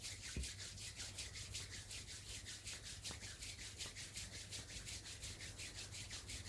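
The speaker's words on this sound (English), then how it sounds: "Bringing the hands in front of the chest and rubbing them together." Palms rub briskly together in front of the chest during a hatha yoga session, a faint, rapid, regular swishing friction repeating several times a second against quiet room hiss.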